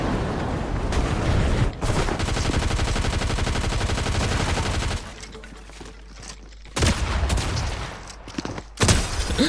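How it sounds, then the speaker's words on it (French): Rapid gunfire bursts in the battle royale video game Fortnite, loud and close, with sustained automatic volleys broken by brief pauses and a quieter stretch before shooting resumes near the end. "Il y a des tirs, je vais aller rush."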